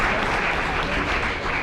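Board of Education meeting audience giving a loud, steady round of applause for a school district official, continuous dense clapping from many people throughout.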